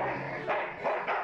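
A dog in the video game Full Throttle Remastered barks three times in quick succession, gruff and close, over a steady game background hum.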